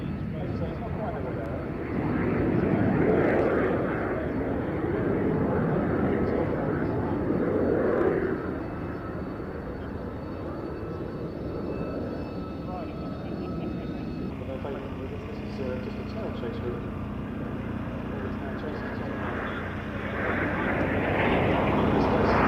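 A Jet Provost JP5 prototype jet at the 1996 Duxford airshow gives a steady, broad engine roar that swells and fades as it passes, with a commentator talking over it throughout.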